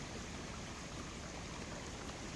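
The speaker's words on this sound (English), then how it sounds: "I don't know if y'all can hear the raging river right now, but it's crazy." A flooded river rushes past a rural homestead road, a steady dense roar of churning water with no breaks, fairly quiet overall and heard alone.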